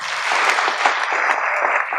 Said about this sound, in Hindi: थैंक यू वेरी मच, जोरदार तालियां दीजिए।